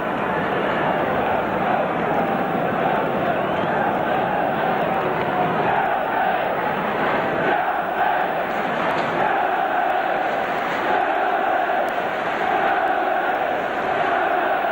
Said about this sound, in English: Support coming up from this big Stamford Bridge crowd for their team in blue.